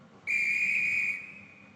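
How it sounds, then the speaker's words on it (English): A railway guard's whistle sounds once, a single sharp, shrill blast held for about a second before it cuts off, loud and close with nothing else behind it. "Whistle again."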